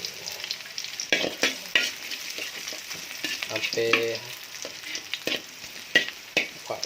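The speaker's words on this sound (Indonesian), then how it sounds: "minyaknya sudah panas. Kita masukkan bawang merah, bawang putih ya, tumis dulu ya" Sliced shallots and garlic are sautéed in hot oil: a close, crackling sizzle with repeated scraping stirs and clinks of a utensil against the pan, with no talking.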